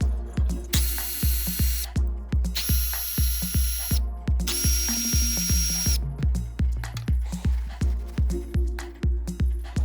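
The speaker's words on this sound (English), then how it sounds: "Use the cordless ratchet to get it started." A cordless ratchet spins on 10mm head bolts during a radiator and hose job, running in three long bursts with a rapid, even clicking pulse that carries across the whole stretch, close and loud.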